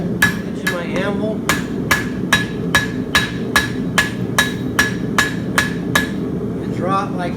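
A hammer rings on a steel horseshoe at the edge of an anvil, a farrier's forge strikes coming in a regular series of about a dozen sharp, bright metallic clangs, close and loud over low background rumble.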